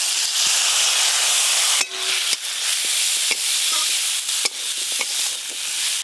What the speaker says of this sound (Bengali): এবার মুসুরির ডালগুলো দিয়ে দেব